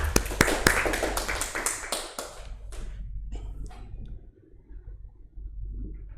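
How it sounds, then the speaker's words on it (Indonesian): Classroom clapping for Mas Akil during a microteaching lesson, a burst of a few hands close by that quickly fades into scattered taps and then a quiet room. "Tepuk tangan untuk Mas Akil."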